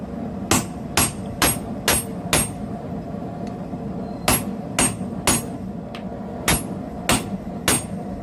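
A hammer strikes a hot slitting chisel on hot metal at a forge, with sharp ringing blows in two bursts of about five quick evenly spaced hits, a short pause between them, close and loud.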